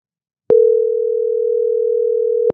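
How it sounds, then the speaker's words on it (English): A steady telephone dial tone, one continuous hum lasting about two seconds with clean starts and stops, alone. "Oh, we got a dial tone."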